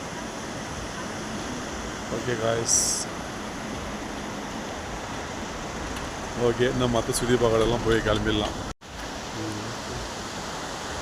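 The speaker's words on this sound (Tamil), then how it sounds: "சூப்பராக வந்து சவுண்ட், தண்ணியோட சவுண்டு அருமையாக இருக்குது" Jogini waterfall near Manali rushes over big rocks in the rain, a steady, full hiss of falling water that runs throughout while someone talks over it in two short stretches.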